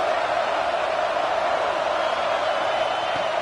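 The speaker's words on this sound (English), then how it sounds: "It's early, but this crowd is fired up. Listen to this noise here." A football stadium crowd at a Penn State versus Wisconsin game roars in a steady, dense wash of noise that stays loud and unbroken throughout, with no distinct voices standing out.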